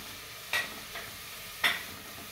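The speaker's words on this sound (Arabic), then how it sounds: "هذا ما البصل يتقلى، نقلو معاه الزروديه والثوم والطماطس تاع القوطي" Onion frying with carrots, garlic and canned tomato for a sardine dish, a steady low sizzle with two sharp scraping stirs of a utensil in the pan and a fainter one between, no talking.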